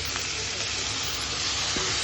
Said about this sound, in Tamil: தக்காளி ஆட் பண்ணிட்டு நல்லா அப்படியே வதக்குறோம்.